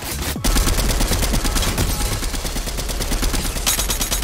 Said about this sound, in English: Somebody is close, and there is shooting over here.